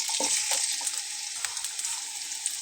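Chopped onions frying in hot oil in a wok for a spicy goat head curry, a steady close sizzle with bright crackle and a few soft stirring clicks, no voices.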